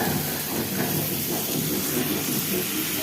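Potatoes frying in hot oil in a kadai, a steady, close hiss and sizzle that continues unbroken with no talking.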